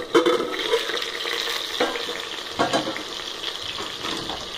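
Tomatoes and onions for a brinjal biryani sauté in a pan, with a steady sizzle and intermittent scraping stirs throughout, no talking.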